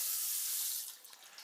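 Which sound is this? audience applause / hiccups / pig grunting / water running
water running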